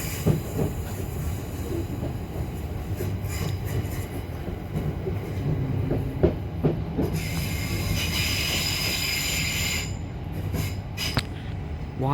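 Onboard a Southeastern Class 376 ten-coach train made of two five-car units, a steady rumble of wheels and car body carries on, with rail clicks and a higher squeal that rises partway through, no voices.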